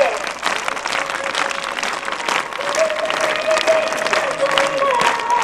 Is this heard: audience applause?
yes